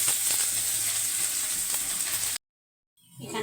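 Dry red chillies, whole cumin and chopped onion sizzle loudly in hot oil, a dense continuous frying hiss that cuts off abruptly into silence before faint sizzling returns.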